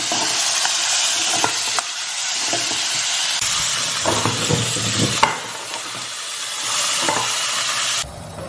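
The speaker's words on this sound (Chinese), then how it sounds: "煎出了一条完整的鱼" Whole crucian carp frying in a pan with oil, giving a loud, steady sizzle and hiss throughout, with occasional soft clicks and spatters, until it drops sharply near the end.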